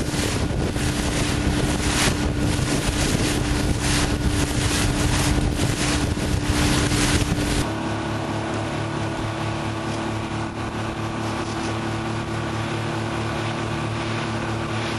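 A motorboat motors along the river near Portland, giving a loud, steady engine drone mixed with heavy wind buffeting, which shifts to a lower, smoother hum partway through.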